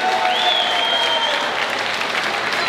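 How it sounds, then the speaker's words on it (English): Sustained crowd applause fills the air after a hard-fought three-round boxing bout, steady dense clapping at ringside with a faint whistle-like tone riding over it, no voices. "please, a big round of applause for the two boxers"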